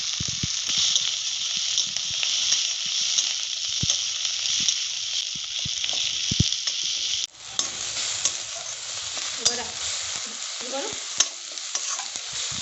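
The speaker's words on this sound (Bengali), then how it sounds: "টমেটো কুচি দিয়ে দিলাম" Chopped tomato hits hot oil over onion paste fried until reddish, for a Bengali tilapia curry, giving a loud, steady sizzle with stirring scrapes that shifts in tone partway through.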